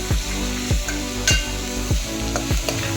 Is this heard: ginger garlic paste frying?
yes